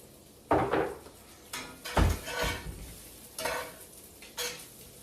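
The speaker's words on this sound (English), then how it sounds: "So I'm going to saute. I'm going to add a little bit more olive oil." Food sautéing in olive oil in a pan, with a few loud stirring scrapes and clatters against the pan over a steady soft sizzle.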